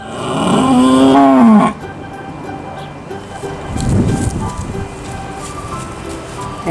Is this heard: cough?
no